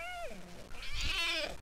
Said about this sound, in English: What's making that sound? It's a cat.